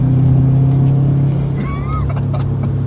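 A turbocharged Subaru WRX hatchback engine hums and rumbles at close range, holding a steady low drone with a brief whining tone partway through.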